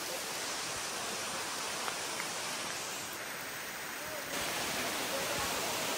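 Heavy rain pouring along a jungle stream trail near the Komoldoho waterfalls, a dense, even hiss of rainfall and running water, steady and moderately loud, with faint indistinct sounds in the background.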